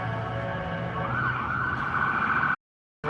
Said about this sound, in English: We got an ambulance here.